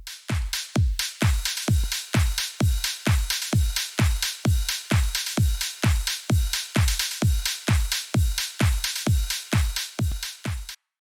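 Extra percussion layer from an electronic music drop built in FL Studio: a steady run of punchy, evenly spaced hits, each with a deep pitched-down thump and bright noisy top, repeating about twice per second, loud and alone.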